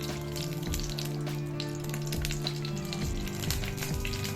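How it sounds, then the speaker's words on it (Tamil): Curry leaves fry in hot oil in a kadai for a masala fish fry, a continuous close crackling sizzle with a low steady hum underneath and no voices. "இப்போ ஒரு கடாயை வச்சு அதில் எண்ணெய் ஊற்றி ஒரு கருவேப்பிலை அப்படியே வச்சுருவோம்."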